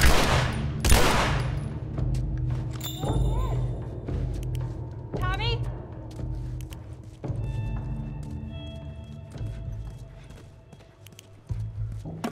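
Gunfire rings out in a shooter game at a hydroelectric dam, with scattered sharp cracks and quicker volleys spread across the scene, joined by game effects and brief voices.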